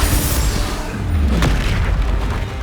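A Bombarda explosion spell goes off in Hogwarts Legacy, a single deep booming blast that swells loudly at once and rumbles on steadily for a couple of seconds, with no voices heard.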